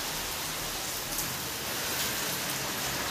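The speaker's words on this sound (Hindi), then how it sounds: "चलो यार नीचे जाऊँगा तो ऐसी बारिश में भीग उड़ जाऊँगा" Heavy rain pours steadily in a dense, even hiss, close and continuous with no pauses.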